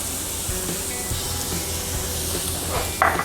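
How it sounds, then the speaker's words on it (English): Butter and garlic frying in a pan, giving a steady hissing sizzle throughout with a brief louder burst of spitting near the end. "We're gonna toss in a little bit of our garlic."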